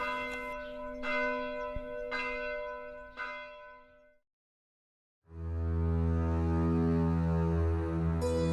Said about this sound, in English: the cathedral bell in Chur was beginning to toll the Angelus for dawn